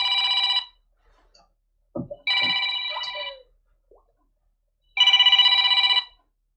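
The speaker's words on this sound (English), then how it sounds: "I don't know what's ringing." A phone rings in three loud electronic bursts with pauses between them, and a short bit of speech falls in the middle gap.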